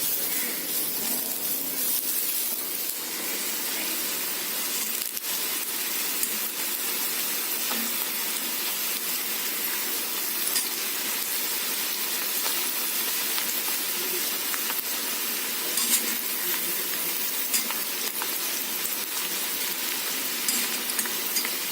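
Spiny gourd sautéing with masala in a hot pan gives a steady, close sizzling hiss, broken by occasional stirring scrapes, with no talking over it.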